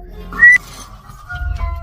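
A brief, sharp whistle rises over a quiet background, followed by a faint lingering tone and low rumbling.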